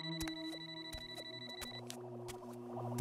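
A mobile phone rings with an incoming call, a steady repeating electronic ringtone of bright tones and short pulses, close and moderately loud with no voices over it.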